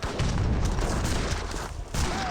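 Culver cannon and musket volleys from a battle in Age of Empires 3 crackle in a dense, loud burst of overlapping shots with a deeper boom beneath, briefly dipping before another crack.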